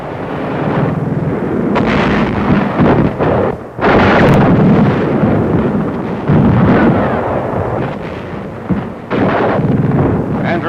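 Loud, continuous roar of enemy gunfire and explosions in 1945 war footage of the US Army crossing a damaged bridge near Frankfurt, heavy booming blasts rolling together with brief dips, dense and close throughout.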